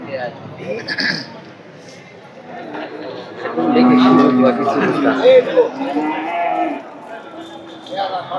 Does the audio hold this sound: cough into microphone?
no